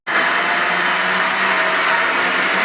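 A mixer grinder switched on while cooking Hyderabadi mutton haleem starts abruptly into a loud, steady, continuous whirring roar that holds evenly to the end.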